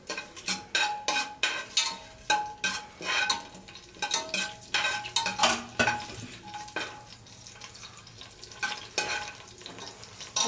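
Whole spices, bay leaf, star anise and cloves, stirred in hot oil in a pot, with quick scraping strokes and a light sizzle under clinking utensil knocks, close and fairly loud.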